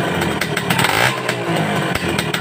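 A Kawasaki Ninja RR two-stroke motorcycle idles with a rough, uneven engine note, a steady close-up rumble broken by small sputters and clattering pulses, with no voices over it.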